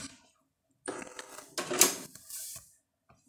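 An HP printer running a test page sounds as a few bursts of mechanical whirring and clicking, with gear and feed noise broken by short pauses, close by and moderately loud with no voices.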